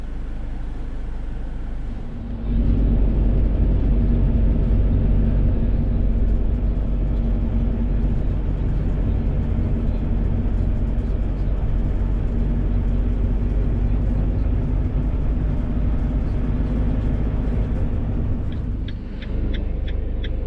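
A Peugeot Boxer camper van pulls away near Mwnt in Wales, a loud steady engine rumble and road drone filling the cabin after a brief quieter start, continuing evenly until a dip near the end.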